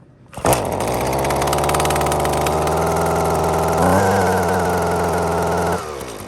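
A small two-stroke Husqvarna 128 string trimmer engine sputters to life and settles into a steady, buzzing idle while warming up, with a brief rise in revs partway through before cutting off.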